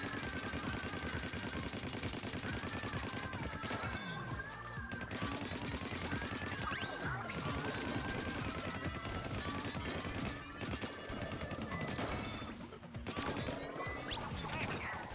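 Rapid repeated shooting in Splatoon 2 Octo Expansion, a continuous stream of splatty shots layered over loud game music, with brief breaks and crashes along the way.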